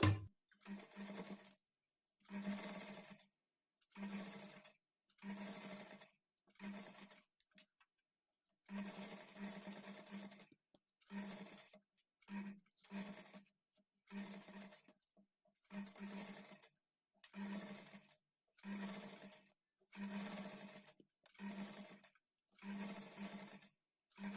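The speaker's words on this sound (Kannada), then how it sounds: "ಈ ಪೈಪಿಂಗ್ ಕ್ಲಾತನ್ನು ಈ ಥರ ಒಳಗಡೆಗೆ ಫೋಲ್ಡ್ ಮಾಡಿ ಪೈಪಿಂಗನ್ನು ಸ್ಟಿಚ್ ಮಾಡಿಕೊಳ್ಬೇಕು" A sewing machine stitches piping onto the back neck of a blouse, running in repeated short bursts with brief pauses between them. Each burst is a steady, close whir, and no one speaks.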